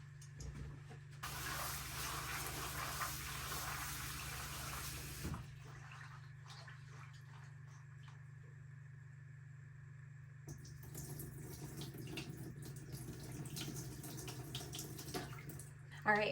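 Foraged wild rose hips washed under running tap water, a steady faint splashing stream that stops, then resumes with scattered handling sounds.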